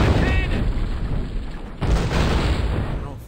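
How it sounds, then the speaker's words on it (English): Cannon fire booms in the Western action game GUN, one deep blast near the start and a second heavy burst partway through, both loud against constant game noise. "He's on the cannon."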